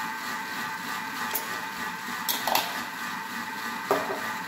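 Egg yolks, sugar and Madagascar vanilla are mixed by hand in a bowl, giving soft scraping and occasional light taps of a utensil against the bowl, close and quiet, with no voices.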